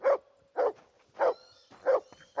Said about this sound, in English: Alright, it is barking for no reason.